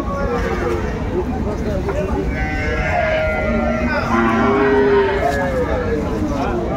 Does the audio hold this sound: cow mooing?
yes